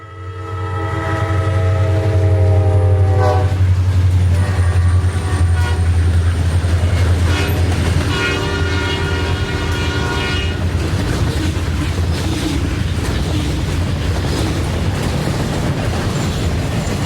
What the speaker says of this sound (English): savor the reverberation of the locomotives, as they gear up for the steep climbs which lie ahead of them in both directions